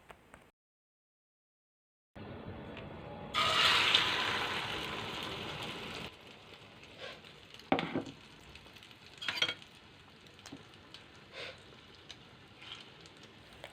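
A mixture fries in a little oil in a non-stick pan, with a strong hissing sizzle that swells when it hits the oil and then eases into a softer crackle dotted with sharp pops.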